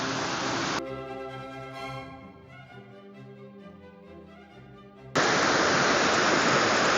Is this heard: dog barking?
no